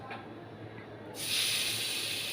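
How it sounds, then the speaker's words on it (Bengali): Tengra fish frying in hot oil, a soft background hiss that jumps abruptly into a loud, steady sizzle partway through as more fish go into the pan. "তারপরে তেলের মধ্যে আবার কিছুটা ট্যাংরা মাছ আবার ভেজে নিচ্ছি"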